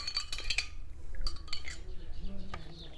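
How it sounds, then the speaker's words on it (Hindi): A spoon clinks and scrapes against a glass or jug while stirring black plum (jamun) sharbat, a few bright metallic taps and swirls up close, with a voice speaking faintly in the background. "अच्छे से हिलाएंगे, थोड़ा सा और डालेंगे"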